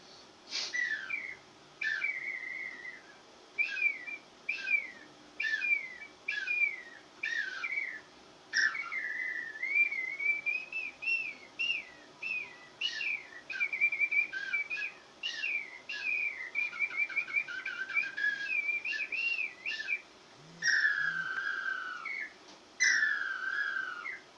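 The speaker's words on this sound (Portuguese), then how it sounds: "esse é um apito que vocês conhecem, é um apito muito comum aqui no Brasil" A hand-blown bird-calling whistle, a common Brazilian type, plays a long series of bright chirping and warbling notes, close and clear, with rapid trills and sliding tones and no talk.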